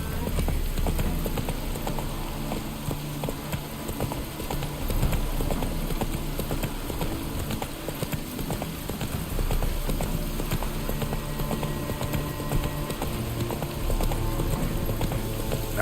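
Roach, a horse in The Witcher 3 on PS5, gallops with steady rhythmic clip-clop hoofbeats close up, running continuously over a full, busy game soundscape.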